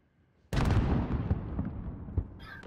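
A heavy weapon on a VTOL aircraft in Modern Warfare fires as one loud close blast out of near silence, then rumbles and fades with a few smaller pops.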